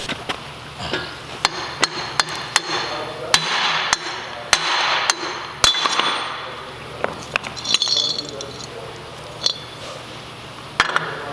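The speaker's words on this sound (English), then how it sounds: "it should just slide right through when I hit it with the hammer" Sharp metal hammer blows ring out repeatedly at irregular intervals, close by, driving a hub through a wheel bearing on a 1995 Acura Integra, over a faint background hum.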